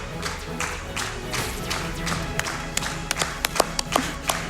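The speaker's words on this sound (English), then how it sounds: "They're actually clapping so loud I can't hear the audio cue for the laser charging." In-game crowd clapping from the video game Deer Simulator during a final boss fight, a steady rolling patter of many hands with sharper individual claps standing out near the end, loud enough to dominate.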